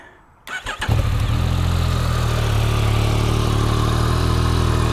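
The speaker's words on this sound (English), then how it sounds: "we're gonna have to let the bike sit in idle for just a minute." A Yamaha MT-09 SP motorcycle engine cranks and fires after a moment of quiet, then settles into a steady, loud, close idle that runs evenly to the end.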